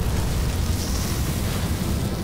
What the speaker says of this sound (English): It's a real fire this time!